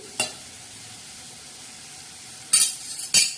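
Spinach and dill greens cook in a pan under a low background hiss, with three short, sharp stirring scrapes against the pan, one early and two near the end, and no talk.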